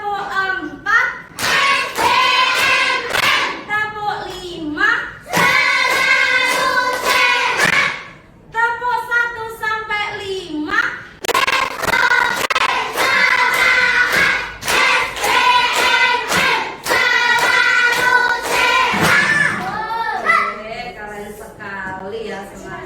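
Rhythmic bursts of hand claps from a group of children doing a clapping routine in a classroom, sharp and close, repeated in sets between loud chanting voices of a woman and children.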